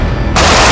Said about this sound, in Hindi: AK-203 राइफल 1 सेकंड में 10 गोलियां दाग सकती है।